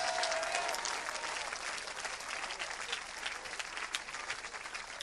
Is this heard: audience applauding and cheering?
yes